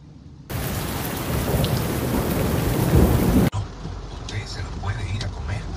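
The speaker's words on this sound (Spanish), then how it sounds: "Fuerte lluvia y con viento" Heavy tropical-storm rain pounds down with wind in Santo Domingo Norte, a dense, loud roar that drops suddenly partway through to a softer downpour, with a voice speaking over the rain.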